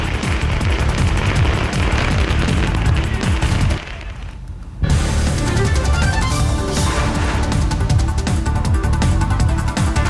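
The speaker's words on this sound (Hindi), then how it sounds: "समर्थकों ने ढोल नगाड़े के साथ मनाया जश्न। जमकर फोड़े पटाखे।" Firecrackers burst in dense, continuous volleys at a supporters' street celebration for Amma's fifth term as chief minister, with loud crackling filling nearly the whole stretch apart from a brief lull.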